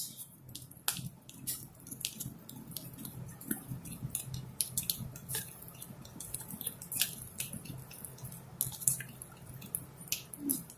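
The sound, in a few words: stirring food colouring drops into icing in a clear cup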